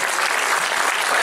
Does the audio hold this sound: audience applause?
yes